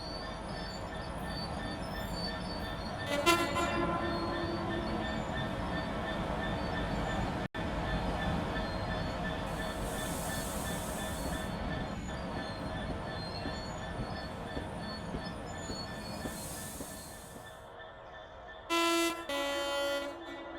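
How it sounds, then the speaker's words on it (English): Class 66 locomotive 66792 pulling away from the Mount Sorrel site with a loaded freight train, a long steady rumble of engine and rolling wagons, with short horn toots near the start and end and a brief wheel squeal. "Seen at the Mount Sorrel site is 66792 departing with the 6 Lima 43 Mount Sorrel to Kennet Redlands."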